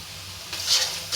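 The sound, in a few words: chili, turmeric, cumin and coriander spices frying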